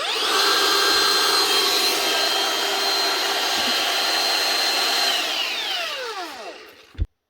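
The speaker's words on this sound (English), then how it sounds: "One Makita DUT130 18 volt brushless cordless mixing drill" A Makita DUT130 18-volt brushless cordless mixing drill runs at a steady high whine for several seconds, then winds down and stops with a final clunk.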